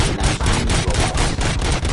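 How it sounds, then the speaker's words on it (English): Gunfire in the RoboCop: Rogue City video game: a dense, loud, continuous volley of rapid shots filling the whole span, no talking. "Gunshots? What's going on?"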